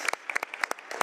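Scattered claps from a small group at a formal intergovernmental committee session, a dozen or so separate sharp hand claps, close and brief, with no talk.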